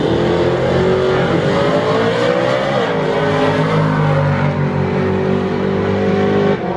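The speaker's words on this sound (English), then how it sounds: "Nova getting ready, RPMs come up." Chevrolet Nova drag car revving at a drag strip, with a loud continuous engine roar that rises and shifts in pitch as RPMs climb, close and dominating throughout.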